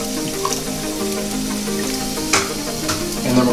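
Beef stock poured into a hot pot of braised short rib sizzles and bubbles steadily, with a brief splashy burst partway through and no voices.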